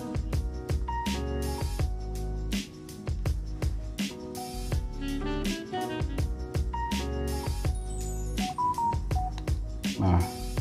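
A Samsung phone running One UI 3 plays keypad tones while an SMS is typed, a rapid, uneven string of short, close beeps over roughly ten seconds.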